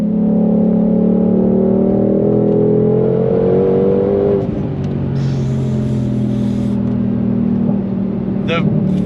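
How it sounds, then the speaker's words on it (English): A 2022 Ford Shelby GT500 Mustang at full throttle gives a loud, steady engine drone that rises and then settles into a lower hum, heard from inside the car with some background noise. "But man, does she hum when you're on full throttle."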